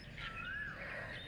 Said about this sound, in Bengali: কোকিল ডাকছে, সেটা তো শুনতেই পাচ্ছ